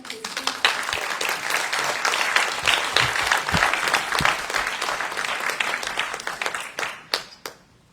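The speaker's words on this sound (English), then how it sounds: "Please give a warm welcome to Steve Bousquet." An indoor audience applauds to welcome a speaker at a community civic center meeting, with dense, sustained clapping that thins out to a few final claps near the end.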